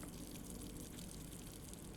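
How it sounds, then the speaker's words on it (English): A kitchen faucet runs in the video game Blue Prince, giving a faint, steady stream of rushing water that stays even throughout. "Except for turn on the kitchen faucet."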